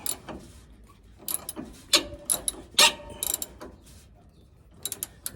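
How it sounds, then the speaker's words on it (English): Ratchet wrench turning a fitting on a Dodge Ram 2500 van during alignment repair, with irregular bursts of sharp clicking strokes separated by pauses, close by. "Yeah, see, ratchet's the way to go."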